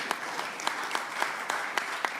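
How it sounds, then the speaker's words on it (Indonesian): An audience applauds at a political event announcing Mahfud MD as vice-presidential candidate, a steady sustained clapping with crisp individual claps standing out, moderately distant and without speech. "Kita berikan tepuk tangan yang meriah buat beliau."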